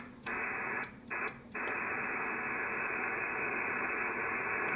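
Ham radio static on the 20 meter HF band hisses loud and steady from a receiver, broken by a couple of brief dropouts near the start before settling into continuous rough noise, with no talking.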